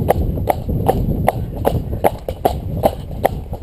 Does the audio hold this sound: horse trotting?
yes